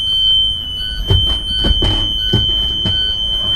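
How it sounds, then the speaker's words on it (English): The alarm on a school bus's rear emergency door sounds when the door is opened. It is a steady, piercing high-pitched buzz that holds throughout, with a few dull thumps and knocks of the door underneath. "You should have your alarm at that time going off."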